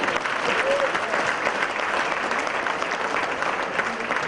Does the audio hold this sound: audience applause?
yes